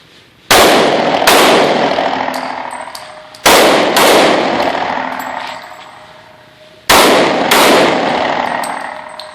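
Three loud, separate firearm shots fired during a defensive shooting demonstration, each a sharp crack with a long ringing decay, spaced a few seconds apart with no talking.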